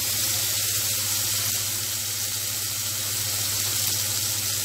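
Curry leaves crackle and sizzle steadily in hot oil, making a dense, continuous frying hiss while a tomato-based pakoda curry cooks. No speech is heard over it.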